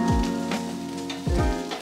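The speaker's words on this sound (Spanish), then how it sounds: "Agregamos un poco de aceite a una sartén y luego los vegetales." Chopped onion and broccoli go into hot oil in a frying pan and sizzle loudly and close by, with a couple of clattering stirs over the steady crackle.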